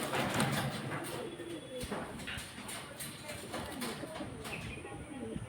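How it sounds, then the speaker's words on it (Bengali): Pigeons, including a female, coo softly in a busy, noisy space, with scattered clicks and knocks over a steady background hum. "এই যে দাদার এটা হচ্ছে মাদি পায়রা।"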